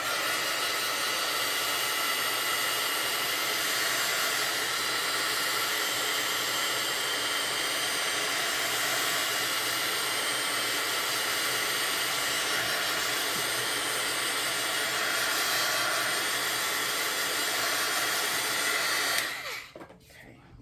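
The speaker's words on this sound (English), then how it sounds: "I'm going to hit this with some heat to start the drying process." A heat tool blows steadily over freshly applied modeling paste on craft tag backgrounds, a loud continuous hissing whoosh lasting about nineteen seconds before it cuts off abruptly.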